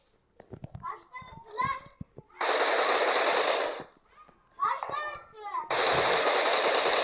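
Sustained bursts of M416 rifle fire from PUBG Mobile, two long loud rattling volleys separated by a pause, with a voice talking in between.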